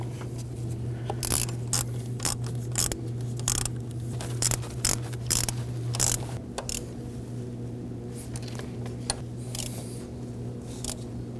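A ratchet wrench tightens the high pressure fuel pump bolts on a 2.0L Ford Edge with a run of quick, crisp clicks that stops partway, then quiet shop hum.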